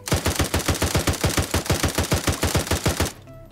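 Rapid automatic gunfire in a video game, a fast regular burst of loud shots lasting about three seconds before stopping abruptly, with no talking.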